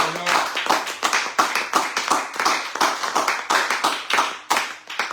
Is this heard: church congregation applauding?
yes